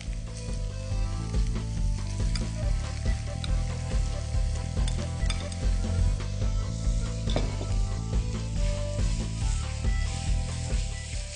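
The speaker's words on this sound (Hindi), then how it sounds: "अब आपने कीमे को अच्छी तरह फ्राई करना है, यानी भूनना है कि वो हल्का सुनहरा हो जाए।" Minced meat (keema) fries in a pan, with a steady loud sizzle and the scrape of a spoon stirring it throughout, close up and with no voices.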